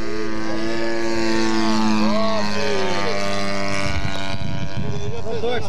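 The engine of a 1/3 scale Sopwith Pup model airplane drones steadily in flight on its maiden flight, a loud buzzing propeller tone that swells and sweeps in pitch as it passes, with men chatting nearby.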